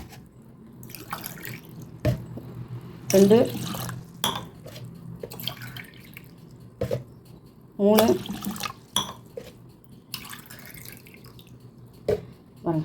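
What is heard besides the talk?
pouring tumblers of water for tomato rice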